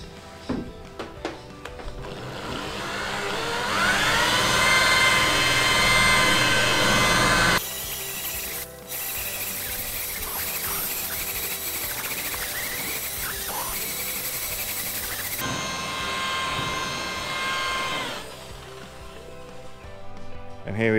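Machine buffing on the paint of a BA Ford Fairmont Ghia 5.4 V8 after light sanding, a steady close whirring hum with pitch shifts as pressure changes and a brief pause midway, with occasional talk over it.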